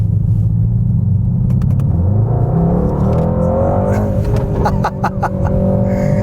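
A Mercedes-AMG GT 63S four-door with a bi-turbo V8 accelerates hard from low speed, its loud engine rumble rising steadily in pitch through the gears, heard from inside the car with no talking.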